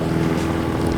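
Amphibious go kart spinning donuts on open water, giving a brief, steady droning motor hum with churning water and some wind noise, close and continuous.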